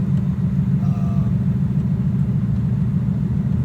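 Steady low road hum and rumble from worn off-road tires on a lifted 2017 Nissan Frontier Pro4X, a continuous droning noise heard from inside the cab with no talking.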